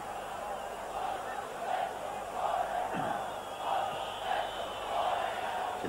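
Distant Torino football fans chanting in the stadium at Lecce in 1989, a steady rhythmic swell, voices rising and falling together over a constant roar.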